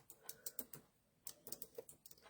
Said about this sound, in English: I'm just typing a comment in here.